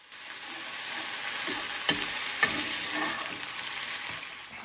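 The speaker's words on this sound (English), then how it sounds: "get some water and mix that in with your chorizo and potatoes" Chorizo and potatoes sizzling loudly in a pan after water is stirred in: a dense, continuous frying hiss with a couple of sharp utensil scrapes near the middle, close up and without speech.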